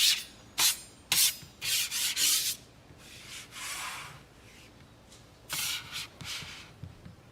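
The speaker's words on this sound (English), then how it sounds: "He is now using a paint scraper to get up all of his flour" Someone drags a paint scraper across a surface to gather up spilled flour, making short scraping and rubbing strokes in uneven bursts, close but fairly quiet, with no voices.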